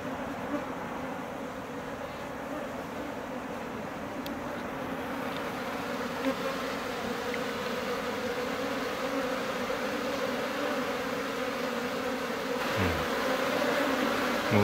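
A swarm of Japanese honeybees fills the air with a dense, continuous buzzing hum, close and steady, with individual bees droning past now and then.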